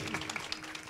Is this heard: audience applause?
yes